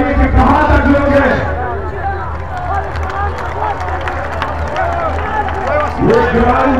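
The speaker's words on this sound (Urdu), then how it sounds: "ذرا ہاتھ اٹھا کر تالیوں کی گونج بتائیے کہ کہاں تک لوگ ہیں" Crowd clapping and cheering at a PTI rally in Hazro, Attock: a dense, continuous wash of applause and hubbub sits under a loud amplified voice talking throughout.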